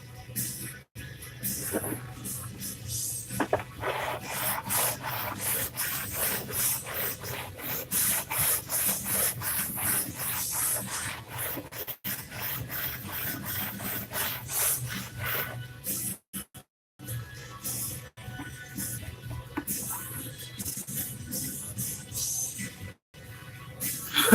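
A piece of wood is sanded by hand with rapid, rhythmic rasping strokes up close, continuing for most of the stretch with a few brief pauses.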